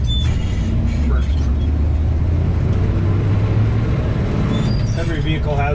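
1965 Chevrolet K15 truck driving with a steady low engine drone while gears are shifted, a continuous close rumble throughout with people talking over it.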